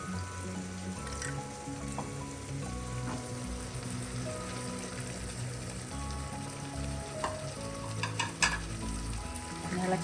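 Onion and egg curry masala sizzles steadily in a pan while being stirred, a continuous close frying hiss with occasional scraping clinks, no talking.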